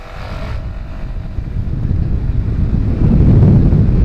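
A new Honda ADV 350 scooter accelerating hard, its engine noise building into a loud low rumble that swells after a few seconds under heavy wind buffeting on the microphone, with no talking.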